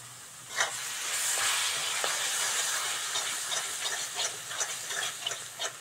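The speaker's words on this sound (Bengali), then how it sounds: "পেঁয়াজ, আদা, রসুন এবার ভালো করে ভাজতে হবে।" Onion, ginger and garlic paste frying in a pan for a fish curry: a continuous close hiss and sizzle, with faint irregular clicks and scrapes on top.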